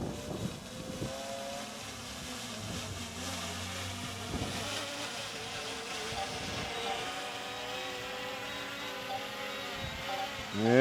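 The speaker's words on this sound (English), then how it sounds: "you can hear the motors." A small DJI Mini 5 Pro drone's motors whine and strain while landing in strong wind, a continuous buzzing hum that rises and falls as the motors fight gusts, with wind buffeting the microphone throughout.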